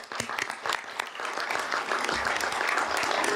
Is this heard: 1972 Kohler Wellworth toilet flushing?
no